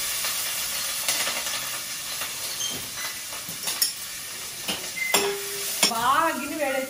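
Mustard seeds and cumin sizzle in a hot pan with a steady frying hiss, broken by sharp crackles and pops and a few clinks of a utensil against the pan, while someone talks over it.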